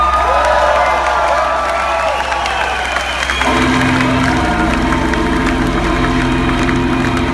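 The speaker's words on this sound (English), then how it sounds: "Please put your hands together for the incredible Benny Mansions." A rock concert crowd cheers and applauds loudly in a dense, continuous roar, with whoops rising over it. Partway through, amplified music starts and plays beneath the ongoing crowd noise.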